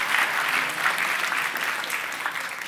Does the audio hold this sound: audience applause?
yes